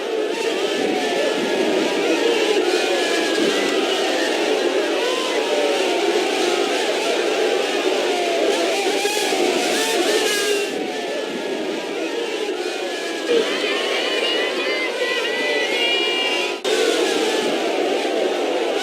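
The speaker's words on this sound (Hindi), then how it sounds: "घर घर मोदी हर हर मोदी का नारा लगाते हुए ये कुछ एम्बियंस आप सुनिए" A large rally crowd at PM Modi's Deoghar visit chants together, a dense, continuous roar of many voices holding steady and loud throughout with rhythmic swells.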